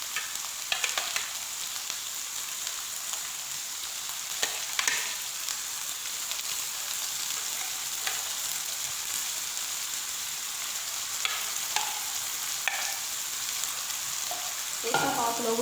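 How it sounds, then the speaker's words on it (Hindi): Chicken frying in masala in a karahi, a dense, rain-like sizzle held for the whole stretch, with occasional soft clicks and scrapes from stirring, close and steady, no talking. "आप लोगों ने इसको मसाले में अच्छी तरह से भूनना है।"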